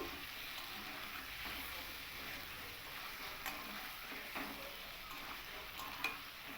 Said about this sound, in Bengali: আলু আর ডিমটাকে এই মশলার সঙ্গে একটু কষিয়ে নিয়েছি